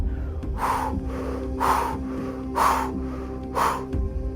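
Four sharp, forceful breaths taken during a breathing exercise, evenly spaced about a second apart, close and loud over a low steady background hum.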